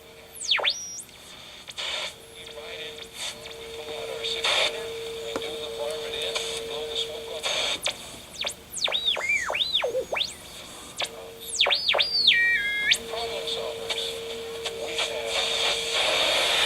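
Whistling electronic tones from an oscillator held near a Hallicrafters radio sweep and warble up and down over steady radio hiss as the dial turns, with a held low tone breaking into squealing glides partway through.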